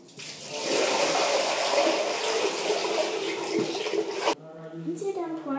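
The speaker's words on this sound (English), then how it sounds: "you're just gonna pour out the water again" Water pours steadily out of a fish tank for about four seconds as a loud, continuous splashing rush, then stops abruptly and a voice speaks.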